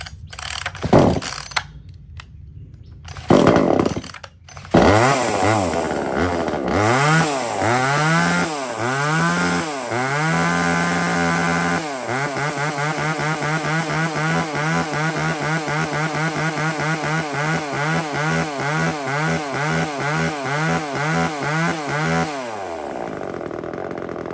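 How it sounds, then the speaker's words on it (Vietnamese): A used Japanese chainsaw, from a secondhand lot including Stihl, Echo Kioritz, Komatsu Zenoah and Hitachi models, starts after a few pulls, revs up and down in repeated surges, then settles into a steady loud rattling idle before cutting off. "hôm nay lên sóng cho anh em thêm một con máy cưa mới nữa"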